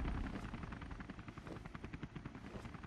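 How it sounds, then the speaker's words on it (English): Helicopter in the Owlboy video game, a loud, low rotor thump with rapid rhythmic chopping that pulses steadily and fades slightly over a few seconds, with no talking. "hello, helicopter"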